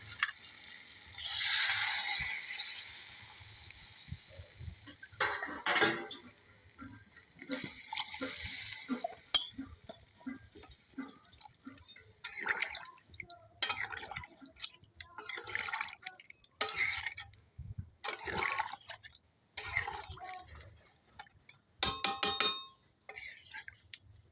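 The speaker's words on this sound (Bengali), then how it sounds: "এবার আমি জল দিয়ে দেবো।" Water is poured into a pot of chicken and mutton simmering for biryani. Splashing pours come in separate bursts, some longer and some short, with drips and a faint sizzle between them.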